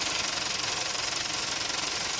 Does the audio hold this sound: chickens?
no